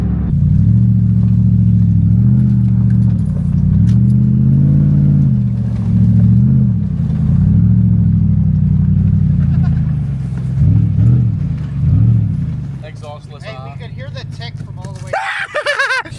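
A Lexus GX470 fitted with a new aftermarket exhaust idles with a deep, burbly rumble and swells in a few gentle revs. Voices chat over it near the end, and it ends in a brief rustle.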